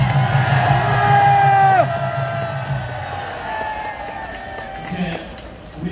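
A protest crowd outside Gwacheon Police Station cheers and whoops, with voices and shouts mixed into a steady roar that eases after a couple of seconds.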